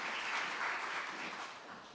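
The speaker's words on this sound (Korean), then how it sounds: "우리 하나님께 영광의 박수 올립니다" A Korean church congregation claps steadily for the middle-school department during a dawn new-month prayer service, a dense, even wash of applause that fades slightly toward the end, with no voices.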